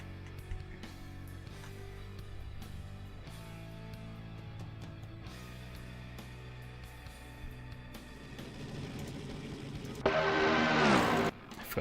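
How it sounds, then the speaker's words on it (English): A loud race car engine in the Assetto Corsa racing game bursts into a harsh, roaring blare near the end, after a long stretch of quieter, tonal background sound. "I forgot this car is deathly loud."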